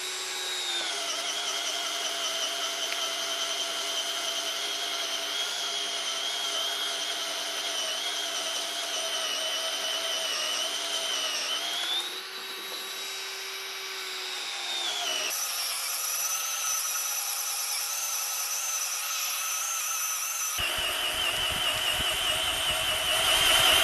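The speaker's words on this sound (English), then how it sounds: "same post, same auger bit, same test, 2 minutes drilling" Bosch 18 V cordless drill turning an auger bit into a wooden post, a steady high-pitched motor whine sustained for long stretches, with brief shifts in pitch and load, close and loud with no talk.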